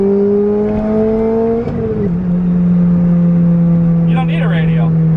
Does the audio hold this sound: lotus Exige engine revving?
yes